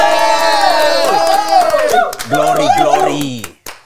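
A talk-show audience applauds and cheers for a panel, with scattered claps mixed into loud whooping voices that fade out toward the end.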